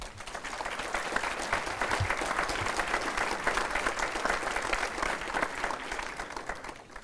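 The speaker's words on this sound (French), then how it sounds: "Je crois que vous pouvez l'applaudir." A conference audience at the opening of a European-themed event applauds in a steady, sustained burst of clapping, heard from inside the hall, then slowly fading.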